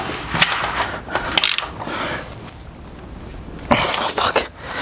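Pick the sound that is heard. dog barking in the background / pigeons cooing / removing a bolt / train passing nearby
removing a bolt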